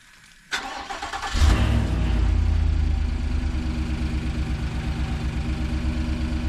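2022 Chevy Silverado ZR2 pickup in the snow cranking over briefly before its engine catches with a loud surge, then settling into a steady, rumbling idle close by.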